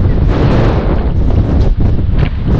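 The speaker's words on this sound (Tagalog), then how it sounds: "Kasama na pala yung hangin sa bagyo." Strong typhoon wind roars continuously, buffeting the microphone with a heavy, rumbling rush that barely lets up.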